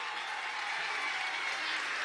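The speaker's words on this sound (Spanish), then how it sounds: "¡Fuerte aplauso!" Loud, dense applause from a crowd at a political rally in Tucupita, Venezuela, a continuous wash of clapping at constant strength from start to finish.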